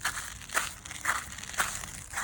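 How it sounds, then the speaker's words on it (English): Close footsteps crunching over ice, about five crisp crackling crushes at a steady walking pace, with faint crinkly texture between steps and no voices. "as I crunch across the ice"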